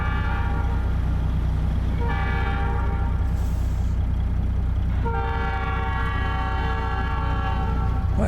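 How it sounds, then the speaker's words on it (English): Trains passing in the video game American Truck Simulator, with sustained chord-like horn blasts sounding twice over a steady low engine rumble, loud and close, with no talk. "Wow, that's 2 trains in a row."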